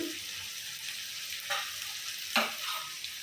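Egg and yam curry fries in a pan with a soft continuous sizzle, broken by a couple of brief stirring scrapes, faint and close with no talk.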